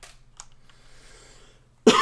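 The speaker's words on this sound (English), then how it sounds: "And I'm coughing a lot." A single short cough bursts out at the very end after near-silence, close and fairly loud.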